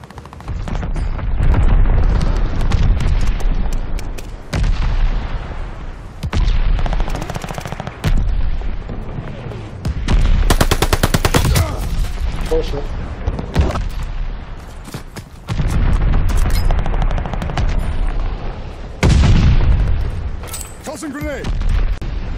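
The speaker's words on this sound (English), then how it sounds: "Allies calling a mortar barrage." A mortar barrage in Call of Duty: Vanguard, with repeated heavy booms and rattling gunfire arriving in loud waves separated by short lulls, dense and close.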